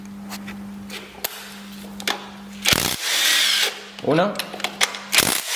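Tool work on a 13 mm bolt on a VW 2.0 TDI engine during a timing belt job: a steady low hum runs under brief clicks and a couple of sharp ratcheting bursts, with someone speaking close by.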